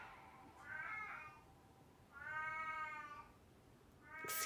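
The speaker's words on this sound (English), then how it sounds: "excuse me for the cat interruption" A cat meows in a bathroom, giving three drawn-out, echoing cries with a long, tonal middle one, close by and fairly clear against a quiet room.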